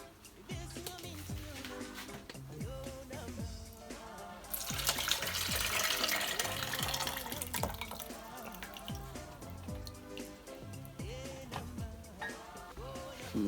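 Broth pours steadily into a measuring jug for a few seconds, a soft rushing splash rising over background music.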